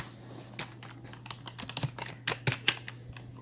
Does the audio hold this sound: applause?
no